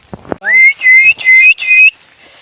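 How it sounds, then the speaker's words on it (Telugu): A person whistles in a forest while out picking custard apples from the trees, a few loud, close, rising and sliding tones in quick succession after two soft taps, with no talking. "ఏమైనా ఉంటాయని విజిల్ అయితే వేస్తున్నాం"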